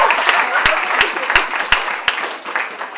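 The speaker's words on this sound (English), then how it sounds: "Let's give him one more round of applause" Comedy club crowd at a stand-up show claps for the host, a scattered round of applause with a few sharp, distinct hand claps standing out near the front before it thins away.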